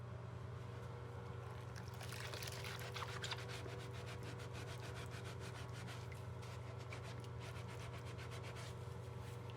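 Adidas Y3 UltraBoost 21 sneakers being scrubbed with a cheap brush, a quiet rapid back-and-forth bristle scratching over a steady low hum.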